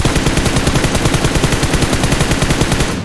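Loud, rapid automatic gunfire in the mobile battle royale game PUBG Mobile, a dense continuous burst of close shots lasting about three seconds with no talking over it.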